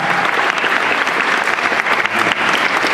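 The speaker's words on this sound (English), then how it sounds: "big applause" Loud, dense audience applause fills a Halloween Horror Nights panel, continuous and even throughout with no voices over it.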